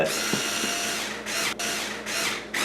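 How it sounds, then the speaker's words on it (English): A power drill drives in the screws that seal the lid of a lens-adjustment housing, with loud whirring bursts broken by short pauses as each screw tightens. "I'm just going to put back on my lid and tighten down the screws that seal the lid."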